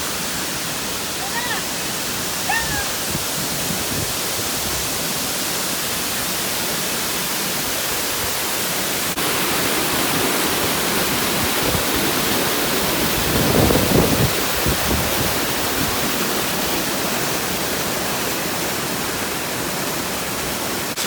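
Rushing water at Banyumala Twin Waterfall in Bali, a loud, steady broadband roar that continues unbroken throughout, close by and overwhelming the surroundings.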